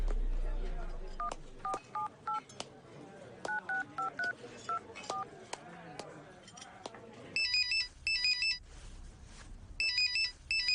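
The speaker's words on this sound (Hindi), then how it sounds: "एक फोन करके आता हूँ" Telephone keypad tones beep in short groups as a number is dialed, followed by repeated electronic ringing bursts in a Hindi dubbed movie scene, with a voice briefly heard early on.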